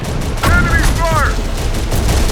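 Dense bursts of gunfire fill a battle in the video game Terminator: Dark Fate - Defiance, loud and continuous, with shouted voices over the shooting.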